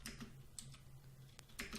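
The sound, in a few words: typing on a computer keyboard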